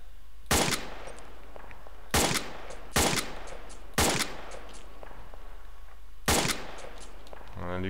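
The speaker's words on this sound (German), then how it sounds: "Auf mich wird geschossen." Sharp gunshots in a video game ring out one at a time at irregular intervals, five distinct loud reports with short echoing tails over a quiet background, with no talk.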